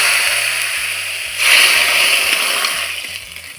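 Hot tempering of fenugreek, onion, curry leaves and dried red chillies poured into a pumpkin and drumstick-leaf curry, a loud sudden splash and sizzle that swells then slowly fades.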